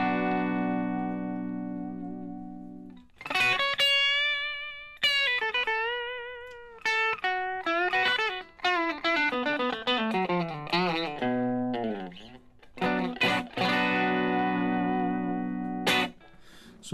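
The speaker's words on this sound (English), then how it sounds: "So that's our first distortion." Electric guitar played through a distortion effect: sustained, bending lead notes and held chords with a smooth, saturated sound, with short pauses between phrases.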